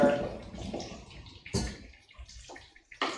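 Cooking water drains from a pot of boiled potatoes in a kitchen, quiet splashing and gurgling pours with a few sharper splashes and pauses, no talking.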